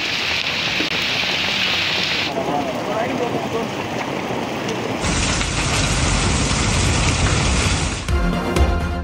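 Torrential rain with hail pours down in Attock and Talagang, a steady, dense hiss that changes level at abrupt cuts between shots and ends in a rougher, clattering patter.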